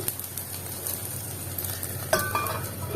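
Ada batter cooking in oil on a pan after being flipped, with more oil added, producing a low steady sizzle and occasional light clinks of a utensil against the pan.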